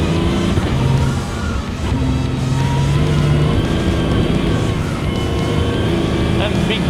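A Mini rally car accelerates hard in second gear across a frozen lake, its engine droning loud and steady throughout, with a voice speaking over the engine.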